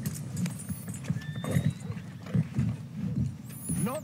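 Horse hooves clip-clop steadily in Red Dead Redemption 2, a close, even walking rhythm with a brief whinny-like snort and faint background tones.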